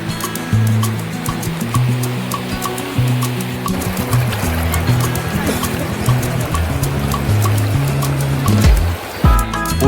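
Shallow, knee-deep river water spreading wide and flowing over rocks at Mokayikkal Kadavu on the Poonoor river, giving a steady, loud, continuous rushing wash with no break throughout.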